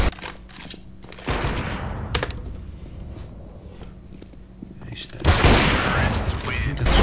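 Gunfire in the video game CS:GO: bursts of shots and sharp cracks with footsteps, ending in a loud, dense volley, all close and prominent.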